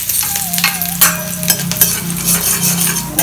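Steady crackling sizzle of mustard seeds, urad dal and curry leaves frying in hot oil, with occasional clinks of a utensil stirring in a pan.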